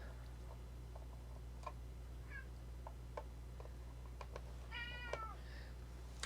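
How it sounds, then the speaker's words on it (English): A house cat meows a few times amid faint ticking, with a low steady hum underneath and no one speaking. "I have a cat to evict"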